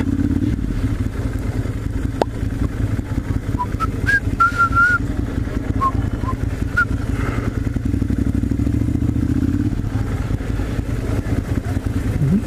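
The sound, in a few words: motorcycles at European Bike Night in the Haymarket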